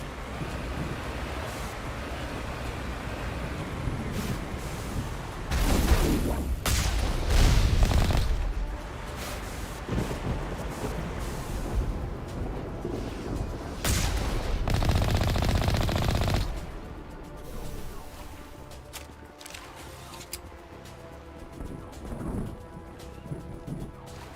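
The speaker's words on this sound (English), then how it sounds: "There must be a way to shut that gun down." Artillery gun fire in the Mass Effect video game, heavy booming blasts and rumbling bursts over a constant windy roar, with louder volleys clustered in the middle before settling into background rumble.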